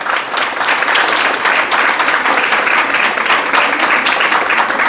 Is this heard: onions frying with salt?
no